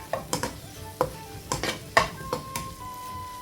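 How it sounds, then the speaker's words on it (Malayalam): Ginger, garlic and chili paste sautéing in a pan, with a soft steady sizzle under a series of sharp spatula scrapes and clinks against the metal, roughly one every half second. "ജിഞ്ചർ ഗാർലിക് പേസ്റ്റ് ചേർത്ത് കൊടുക്കുക. ജിഞ്ചറും ഗാർലിക്കും ചില്ലിയും കൂടിയിട്ട് അരച്ചെടുത്തതാണ്."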